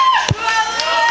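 A wrestling arena crowd at a CWF Mid-Atlantic match gives off a brief swell of cheering and murmur, with a thud-like impact near the start and a commentator's voice running over it.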